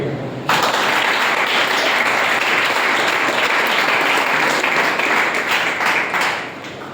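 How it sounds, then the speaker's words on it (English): An audience bursts into steady, loud clapping after a student's speech, a dense, even wash of applause that holds for several seconds before tapering off at the end. "So let's clap for him."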